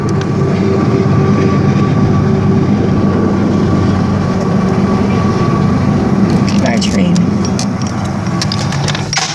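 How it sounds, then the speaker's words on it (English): A train passes at sunrise as a loud, steady rumble with rattling wagons that fills the whole stretch, and a few clicks and a squeal come through near the end. "It's a train."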